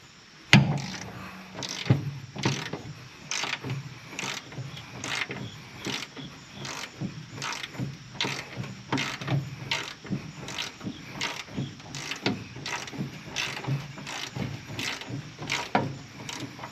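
An Icon G2 1/4-inch drive ratchet wrench works a bolt on a car's core support, giving a long series of rapid, evenly spaced clicks as the handle swings back and forth, close up and fairly quiet, with no talking.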